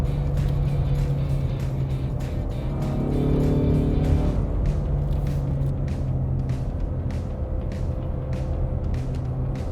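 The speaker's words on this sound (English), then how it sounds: "I honestly can't get over how loud it is for a stock EcoBoost." A stock Ford EcoBoost car with active exhaust drones loud and deep at close range, swelling briefly as it accelerates and then settling back into a steady rumble with faint ticks over it.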